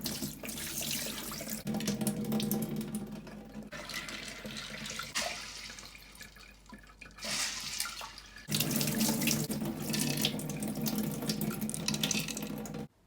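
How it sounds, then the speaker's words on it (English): Tap water runs into a sink as red kidney beans are rinsed, the stream starting and stopping between bursts of splashing and swishing, close and moderately loud. "So we're just gonna wash that a few times and drain the water out"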